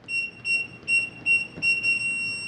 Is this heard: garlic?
no